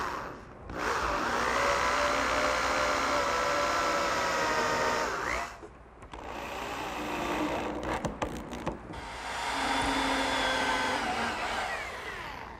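Power driver sinking four screws along each edge of a wooden gardener's work bench, three sustained whirring bursts of several seconds each, close and loud, separated by brief pauses with no talking.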